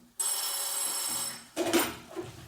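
An old-style telephone bell rings in a French radio detective drama, one long bright ring followed by a shorter second burst, loud and close with nothing else around it.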